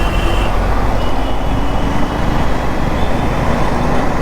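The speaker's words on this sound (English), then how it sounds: "Now you see I'm riding at 6th gear and 55 km/h." A KTM Duke 390 Gen 3 motorcycle cruising steadily in 6th gear at 55 km/h, with a loud, continuous low rumble of engine and road/wind noise and no break or change.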